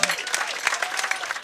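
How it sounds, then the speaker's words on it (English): Wedding guests applaud the groomsmen and bridesmaids with a brief, loud, dense round of clapping from many hands, and faint crowd noise is mixed in. "A big clap for all the groomsmen and bridesmaids."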